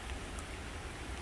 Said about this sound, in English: It's starting to come down, the rain bit